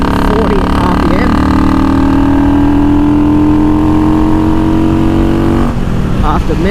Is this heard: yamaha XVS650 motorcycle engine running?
yes